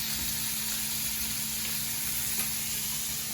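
Scallops searing in a hot pan, cooked alongside asparagus, give a steady, close, moderately loud sizzle that holds evenly throughout with no talking.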